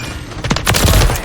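Loud, dense gunfire from the Call of Duty Shipment map, a continuous rattle of overlapping shots with a booming low end filling the whole short burst.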